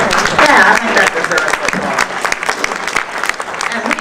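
Loud, dense audience applause fills a tribute event honoring Helen Delich Bentley's 65 years with the Port of Baltimore, steady throughout with faint voices mixed in.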